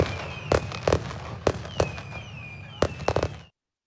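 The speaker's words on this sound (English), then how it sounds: "they had planned a fireworks display in order to recognize our four recipients" Fireworks display at an awards ceremony: a run of sharp, loud bangs and crackles at irregular intervals, some in quick clusters, with whistling trails between them, ending abruptly.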